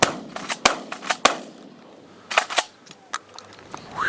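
Shotgun blasts during a hot-weather dove hunt: loud, sharp reports in irregular clusters, several near and some fainter, with quiet gaps of ambient noise between them.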